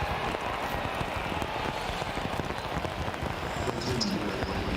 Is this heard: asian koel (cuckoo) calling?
no